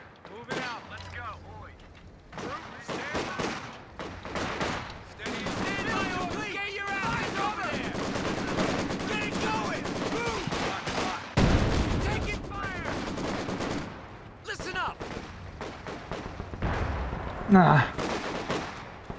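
Gunfire from the World War II strategy video game Company of Heroes 2 in a 3v3 match. Rifle shots and machine-gun bursts rattle steadily throughout, with occasional heavier blasts, as voices call out over the fighting.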